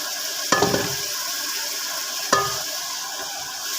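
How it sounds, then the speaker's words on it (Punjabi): Masala spices frying in a pan for kadhi make a steady, close sizzle, with two sharp stirring clanks about two seconds apart. "ਆਪਣਾ ਮਸਾਲਾ ਜਿਹੜਾ ਵੀ ਭੁੱਜਣਾ ਸਟਾਰਟ ਹੋ ਗਿਆ ਵਾ"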